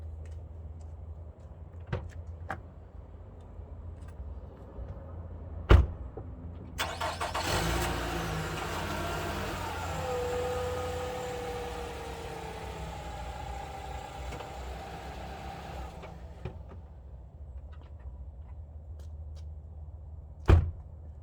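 A company vehicle's engine cranks and starts after a door thump, then idles at a steady mid-pitched rumble for several seconds before settling down, with another sharp door-like bang near the end and no talk.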